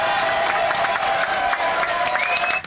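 Audience in a French TV studio claps loudly and steadily for a few seconds, a dense crowd applause with some cheering, cutting off abruptly at the end.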